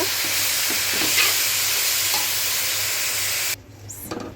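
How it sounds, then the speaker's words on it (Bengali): Bottle gourd peel fries in a pan with a loud, even, hissing sizzle and occasional stirring scrapes, then the sizzle drops away abruptly near the end, leaving quieter clinks. "এখন যে লাউয়ের যে খোসাটা আছে সেটা ভাজি করব"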